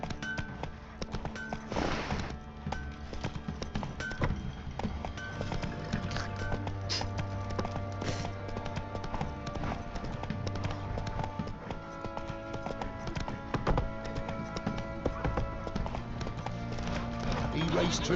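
A horse galloping in The Witcher 3, rhythmic hoofbeats running throughout under game music, with voices talking over parts of it.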